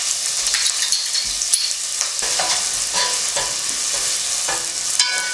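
Chopped onion sizzles steadily in a hot pan with melted fat, a loud, continuous crackling frying sound with occasional stirring scrapes and no talking.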